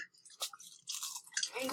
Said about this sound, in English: I'm eating crackers.